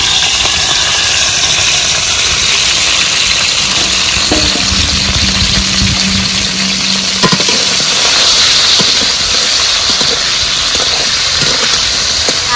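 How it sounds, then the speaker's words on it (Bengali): Prawns sizzling in hot oil with cardamom, cinnamon, cloves and bay leaf, a loud continuous frying hiss with a faint steady hum beneath. "এবার চিংড়ি মাছটা ঢেলে দেবো।"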